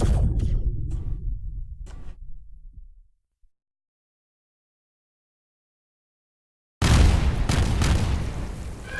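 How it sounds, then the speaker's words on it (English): Explosions in the video game Risk of Rain, deep booming thumps that rumble loudly, cut to silence for several seconds, then return as a dense, loud burst of blasts. "Oh, I hear things exploding."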